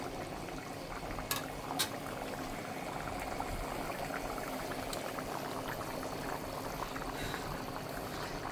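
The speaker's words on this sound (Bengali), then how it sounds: "রান্নার একটা শব্দ দেখছেন।" White rice boiling hard in a pot, a steady close bubbling and roiling that fills the whole stretch, with a couple of brief sharp knocks early on and no talk.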